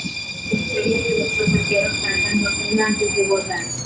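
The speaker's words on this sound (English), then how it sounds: "Getting on the train." Steady rail noise with high-pitched sustained squealing tones, like wheels grinding on track, while people talk over it.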